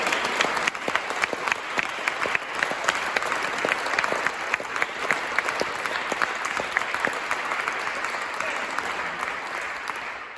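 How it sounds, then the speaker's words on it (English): An audience at a King's Award for Voluntary Service ceremony claps steadily for about ten seconds, a dense, sustained round of applause from a sizable crowd with no voices. "another huge round of applause for getting the King's Award"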